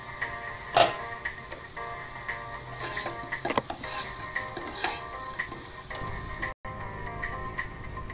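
Dry dhaba-style aloo dum potatoes being stirred in a pan over a low flame, with scraping strokes of a spoon and a faint sizzle throughout, one sharper clack near the start and a brief drop to silence late on.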